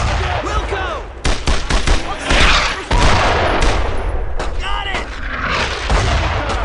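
In the World War II shooter Brothers in Arms: Road to Hill 30, heavy gunfire crackles and booms nonstop, with rapid bursts and loud blasts up close, while soldiers shout over it.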